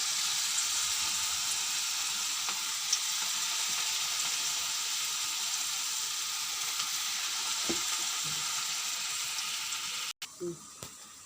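Onion pakoda frying in a pan of hot oil on the stove, with a dense, even hiss of sizzling that runs steadily throughout, broken near the end by a few brief knocks.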